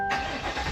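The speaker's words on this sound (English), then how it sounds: "So we're gonna start the car." A 2021 Chevrolet Tahoe, GMC Yukon or Cadillac Escalade engine fires up after a brief quiet moment, giving a loud, sudden catch that settles into a steady, full idle rumble close by.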